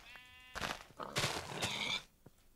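Several close, loud bleats from a sheep in the Minecraft video game, following a short tonal sound, then quiet.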